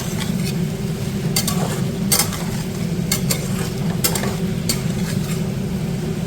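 Potatoes and beans fry in a pan of oil while being stirred, a steady sizzle broken by several sharp scraping strokes of the spoon against the pan, close and fairly loud with no voices.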